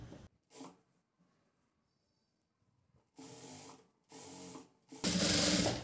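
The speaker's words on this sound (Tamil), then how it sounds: "இதுக்கு மேலேயே வந்து ஒரு தையல் போட்டுக்கலாம்." A sewing machine top-stitches the front of a blouse in three close, loud bursts, each stopping and starting, with the last run the loudest and longest.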